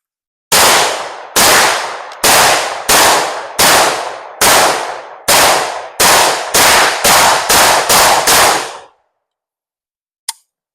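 Rifles and pistols fire at an outdoor night shooting session: about a dozen loud, sharp shots in a fast, quickening string, then a pause and one fainter single shot.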